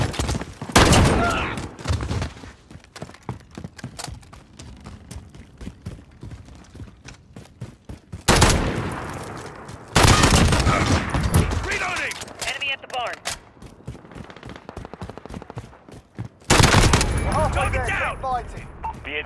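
Bursts of automatic gunfire and single shots in Call of Duty Modern Warfare team deathmatch on Arklov Peak, loud near volleys in clusters with distant crackling between them, under radio-style game voice callouts.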